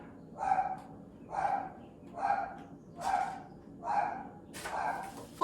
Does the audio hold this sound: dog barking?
yes